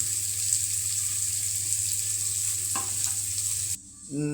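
Boiled potatoes frying in a pan give a steady, fairly loud sizzle with light stirring scrapes. Near the end the sizzle briefly drops away and then resumes.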